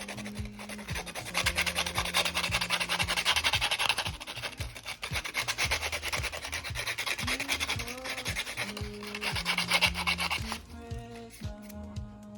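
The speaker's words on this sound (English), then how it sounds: "using some sandpaper and the hobby knife, I sanded the edges down and made it look nice and clean" Sandpaper rubbed back and forth along the edges of a plastic 1:35 Tamiya M41 Walker tank model, a close rasping scrape in repeated strokes, with music playing underneath.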